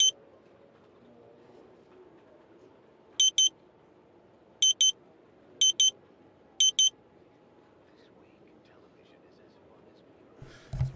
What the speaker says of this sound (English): I'm very sorry for the beeping.